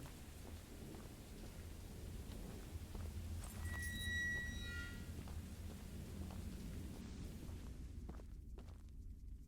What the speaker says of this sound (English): Why is there thunder in the side